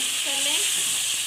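Chicken malai boti pieces tossed with crushed coriander sizzle in a pan as they roast, a steady close frying hiss with a brief tonal sound partway through.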